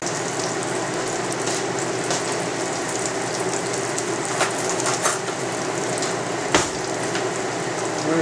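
Bacon crackles and sizzles steadily in a pan, a dense continuous hiss with scattered louder pops and spits, close and alone without talk.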